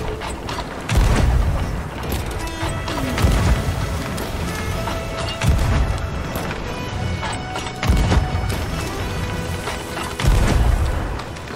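Cannon shots fired at a ship in Sea of Thieves, heavy booming blasts roughly every two to three seconds over constant creaking and sloshing ship noise, loud and close.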